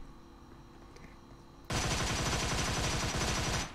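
A sudden, loud burst of rapid automatic gunfire in the PUBG video game starts after a quiet lead-in and rattles on continuously for about two seconds before cutting off.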